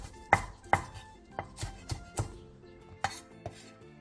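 A knife slices half an onion into 0.5 cm strips and cuts the green part of a green onion on a cutting board. About nine crisp, evenly spaced chops sound close and clear, with no talk.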